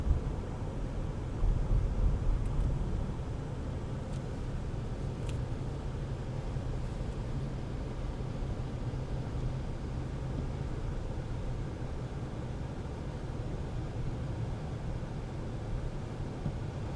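Cadillac Escalade accelerating, a steady low engine and road rumble heard from inside the cabin with a slight rise at the start, continuous and unbroken by talk.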